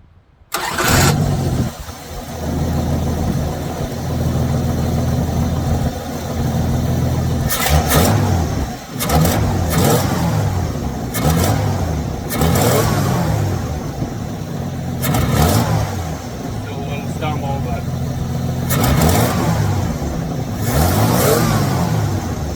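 An engine cranks and fires up, then settles into a loud, close running drone with repeated sharp revs and throttle blips across the stretch, no speech.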